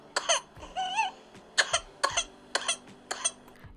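A silicone baby doll coughing: a series of about six short, sharp coughs at a steady pace, close and fairly loud, with a brief whimpering, wavering cry between the first coughs.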